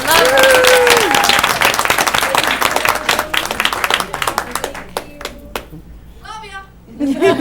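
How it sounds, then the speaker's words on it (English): Audience applause at a school board of education meeting, loud clapping filling the first five seconds before thinning out, with a voice speaking near the end. "So please give everybody a round of applause in helping me honor these lovely."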